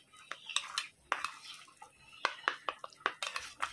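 A rose water and milk face pack being stirred in a small container, giving soft clinking and scraping taps in an uneven rhythm, close and fairly quiet.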